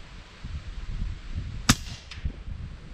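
A rifle fires one sharp, loud crack outdoors in bright sunlight while the shooter aims through a Sniper VT 5.9-39x56 FFP scope. A fainter echo or distant impact follows a moment later, over low background rumble.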